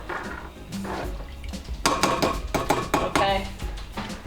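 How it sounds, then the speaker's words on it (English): Utensil scraping and clinking in a pot while stirring cheese sauce for mac and cheese in a home kitchen; irregular metallic knocks and scrapes, moderately close, with faint voices in the background. "we're gonna mix it up and just let it boil"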